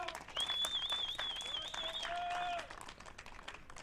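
Spanish supporters cheering and applauding after a para trap shooting final, a steady wash of clapping and crowd noise with whistles, fairly faint, under a commentator's voice.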